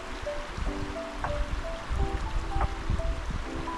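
Water being filled from a cold glacier runoff stream on a backpacking trip to a mountain lake, with steady gurgling and rushing flow close by, plus scattered faint tonal chirps over the water noise.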